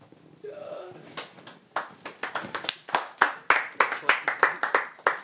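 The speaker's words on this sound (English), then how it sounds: "Can you clap for yourself?" A small group clapping for themselves at the end of an episode, a voice first, then irregular sharp hand claps building into a brisk, loud patter.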